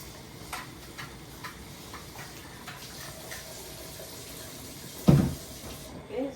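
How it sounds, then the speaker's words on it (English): Warm water from a pipe trickles faintly into a bowl before kneading flour, a soft steady running sound with light ticking drips and one louder splash-like knock near the end. "Okay, so I'll put some water from the pipe into that"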